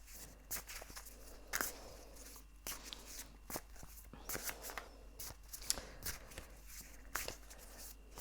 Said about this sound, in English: So I'm going to shuffle and see what the cards have to say